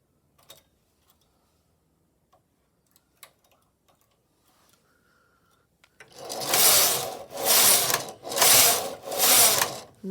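A flatbed knitting machine runs its carriage across in four steady, loud rhythmic passes, a mechanical ratcheting whir rising and falling with each row, after a few quiet clicks of setup.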